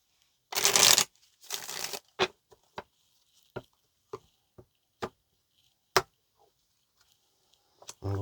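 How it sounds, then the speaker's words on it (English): Tarot cards are shuffled in two quick rustling bursts near the microphone, followed by a scattering of soft, sparse taps and clicks as the deck is handled, with no talking. "All right, let's get one more shuffle."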